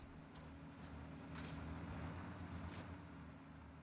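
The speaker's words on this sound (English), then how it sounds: "Oh crap, I hear a truck." A steady low engine rumble of a large truck idling or rolling nearby in Satisfactory, with a few short clanks on top.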